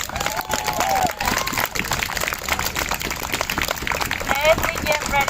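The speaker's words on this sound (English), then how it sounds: "Let's give another round of applause for Sonia Rosen." A rally crowd in Philadelphia claps and cheers for Sonia Rosen, a dense continuous wash of applause with shouts and whoops rising over it, loud and close throughout.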